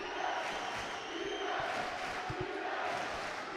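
A basketball crowd at a university men's season opener roars and cheers continuously from the stands, a dense distant wash of voices with a few thumps underneath.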